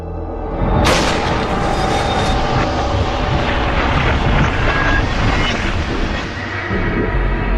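A pressurized aircraft fuselage model, inflated to the equivalent of 12,000 meters altitude, is deliberately ruptured: a sudden loud bang gives way to a sustained roaring rush of escaping air that stays loud throughout.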